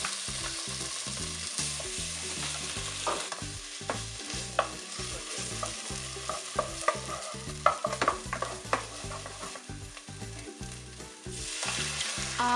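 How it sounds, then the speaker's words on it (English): Tomato paste cooks in a pot for an African bean stew, sizzling steadily while a spoon scrapes and stirs it in a fairly regular rhythm. Sharper clacks stand out now and then, all close by, with no voices. "add the tomato paste and let it cook for about 5 minutes"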